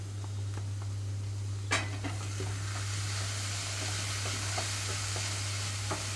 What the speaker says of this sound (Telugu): హై ఫ్లేమ్లోనే ఉంచి కొంచెం కలుపుతున్నాను